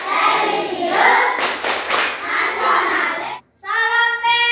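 Schoolchildren in a classroom performing the PPK clapping chant, a short burst of sharp group hand claps among many chanting young voices, followed by a steady tone near the end.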